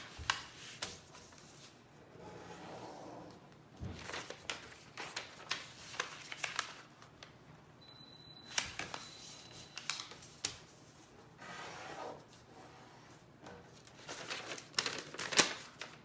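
Paper being folded and creased by hand for an origami crane, with soft crinkling, rustling and sharp crease presses spread irregularly throughout, close and fairly quiet, with no talking.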